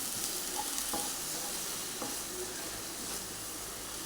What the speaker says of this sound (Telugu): ఇది బాగా కొబ్బరి తురుమంతా దగ్గరికి వచ్చే వరకు కాస్త సిమ్లో ఉంచుకొని తయారు చేసుకోవాలి.